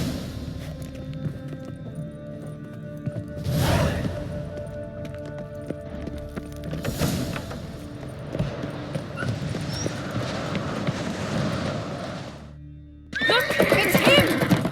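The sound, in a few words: horse neighing and galloping in The Witcher 3 video game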